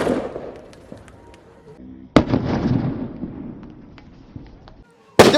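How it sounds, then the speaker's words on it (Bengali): Firecracker bombs going off inside a big hole, two sharp loud bangs a few seconds apart, each followed by rumbling debris, with a voice talking in between. "তো দেখো গাইজ কেমন ধামাকা হয়।"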